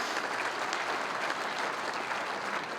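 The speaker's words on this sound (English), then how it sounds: "Please give them all a round of applause" Steady, continuous applause from a seated audience at an outdoor sports luncheon, a dense wash of many hands clapping at moderate distance, alone.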